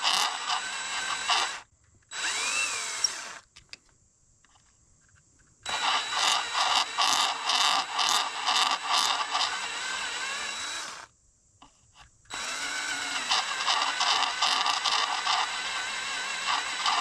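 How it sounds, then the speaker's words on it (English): A power drill whines close up in four bursts, short ones first, then two long steady runs with quiet gaps between, slowly drilling out a bolt hole in a 1997 Toyota Century V12 engine. "Make sure you get your drill bit square with the hole."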